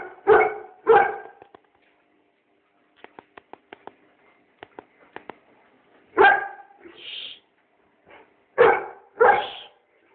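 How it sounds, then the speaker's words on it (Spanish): An Old English Sheepdog barks in loud bursts, two sharp barks at the start, then several more later, with softer clicking or tapping sounds between them. "Estos son los dos perritos. A ver, déjate ladrar"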